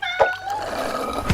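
A single cat meow, loud and close, rises and then slides down in pitch over about a second, heard alone with no talk.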